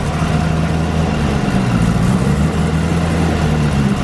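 A twin-turbo Camaro ZL1 idles on a dyno with its exhaust closed, putting out a steady, low, even rumble that holds the same level throughout, with no revving and no voices.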